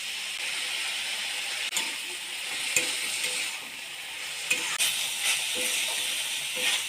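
Spring onion leaves and dried shrimp sizzle steadily in a pan with turmeric, a continuous close crackle with occasional faint clicks of stirring and no talking.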